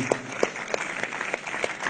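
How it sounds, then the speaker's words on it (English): Applause at a business forum hosted by the American Chamber of Commerce Gambia, with a crowd clapping briefly and fairly thinly in a loose, rhythmic patter. "give him a round of applause?"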